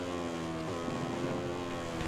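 Steady droning motorcycle engine in MotoGP 20, with an Aprilia bike running on an upgraded engine down a straight, a continuous tonal whine with wind rush, constant and fairly loud.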